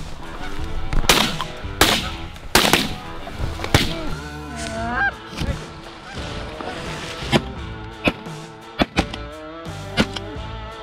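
Shotgun blasts ring out during a goose hunt in an Ohio field, several sharp loud reports spread out amid a large flock's honking and calling, which continues throughout.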